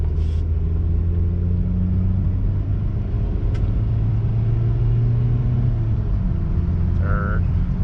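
Cabin view of a 2002 Toyota RAV4 with an automatic transaxle pulling away and accelerating through its gears: a continuous low engine and road rumble, steady and close, with a slight droning hum and a couple of faint clicks.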